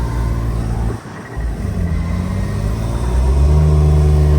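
A Lexus IS300 engine, swapped to a manual W58 gearbox, rumbles close by, dips briefly, then revs up with rising pitch for rev matching and stays loud.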